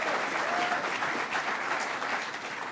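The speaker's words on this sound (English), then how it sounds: "Let's give a round of applause." Audience applause at a New York government press event where officials are being introduced. Steady, dense clapping from a crowd sits at a moderate distance and stays even throughout, easing slightly at the end.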